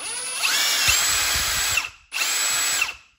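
Ryobi P238 brushless impact driver running at speed three, two loud high-pitched whirring bursts close up, the first about 1.5 seconds and the second about a second, separated by a brief pause.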